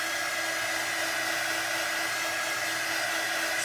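A heat drying tool blows steadily on a glitter craft project, a continuous close whooshing hiss with a faint whine, unbroken throughout with no talking.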